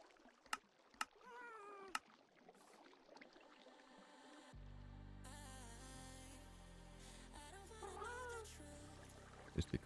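A cat meows several times early on, short wavering cries standing out over quiet background, before loud music with a steady bass line takes over for the rest.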